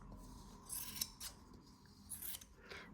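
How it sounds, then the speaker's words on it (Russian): Scissors snip faintly through material while a Christmas ornament is cut out, giving a few soft, crisp cuts over quiet background hiss. "И самые большие вот эти отрезки можно отрезать большими ножницами"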